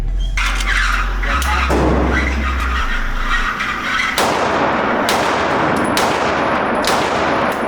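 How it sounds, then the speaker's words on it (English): A firearm fires a group of shots at an outdoor shooting range, loud and close, with sharp cracks spread across the clip over a dense, ringing background. "Just gonna put a 5-round group there to see how it goes."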